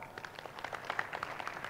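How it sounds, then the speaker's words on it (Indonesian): Applause from an audience at an Islamic sholawat gathering, a steady wash of many hands clapping at moderate distance, continuous through the moment without voices on top. "hebat, tepuk tangan."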